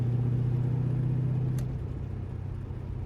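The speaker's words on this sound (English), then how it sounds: "I think the X pipe, where it brings the exhaust in together and then they both crash out somewhere else, I think that sounds way better" A Ford Mustang with a new X-pipe exhaust idles in a low, steady rumble close by, easing off slightly halfway through, with no one talking.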